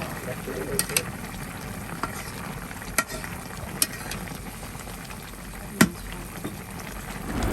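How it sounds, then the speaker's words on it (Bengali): River fish pieces stirred into a snake gourd curry frying in a pan, with a soft steady sizzle and occasional sharp clinks of a utensil against the pot, under faint background voices. "এখন কষানো চিচিঙ্গার মধ্যে মাছগুলো দিয়ে দিতেছে, দিয়ে এখন ভালো করে মাছগুলো সহ তরকারিটাকে ভালো করে কষায় নেবে"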